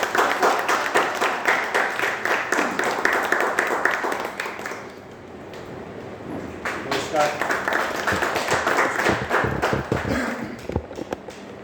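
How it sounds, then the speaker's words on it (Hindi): An audience at an arts talk-show event claps in welcome, sustained applause that dips briefly in the middle before swelling again with sharp, scattered claps. "जोरदार तालियों से स्वागत"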